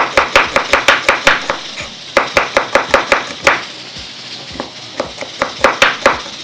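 Rapid, steady knife chops through onions on a cutting board, close and crisp, in quick bursts with short pauses between runs.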